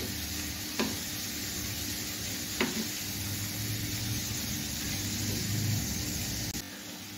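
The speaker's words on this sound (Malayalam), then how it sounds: "ചെറിയ രീതിയിൽ നമുക്ക് ഒന്ന് ഫ്രൈ ആക്കി എടുക്കാം" Prawns fry lightly in a pan for prawn biryani, making a steady, dense sizzle close by, broken by a couple of faint ticks of a utensil before the hiss drops off abruptly at the end.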